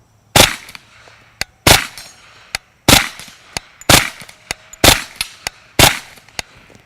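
Kriss Vector submachine gun firing in loud, sharp bursts at close range, several heavy cracks interspersed with quicker single shots in an uneven rapid rhythm, with no talk.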